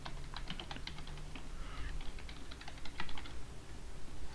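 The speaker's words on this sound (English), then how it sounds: "type in your Microsoft account" Typing on a computer keyboard, a run of light close key taps in an uneven rhythm, fairly quiet over a soft room hum, with no talk.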